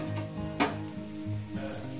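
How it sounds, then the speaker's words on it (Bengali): Mourala fish fry with drumstick flowers in hot oil while being stirred, giving a close, steady sizzle with one brief scrape of the spatula partway through and no talking. "আরো 1 মিনিট একটু নাড়াচাড়া করে এটাকে আমি নামিয়ে দেখাচ্ছি। আর 1 মিনিট ভাজবো।"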